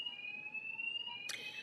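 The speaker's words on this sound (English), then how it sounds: "I don't know if you can hear that, but an alarm has gone off" An alarm goes off in a continuous, steady, high-pitched electronic tone, held unbroken at moderate volume, with a brief burst of broader noise near the end.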